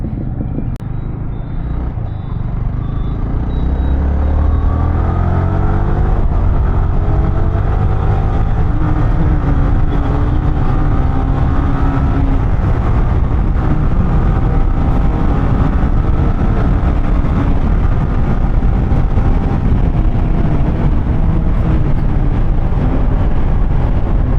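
A Maruti Fronx car drives past on a highway, a steady, loud road roar with a rising engine note that fills the whole stretch without any talking.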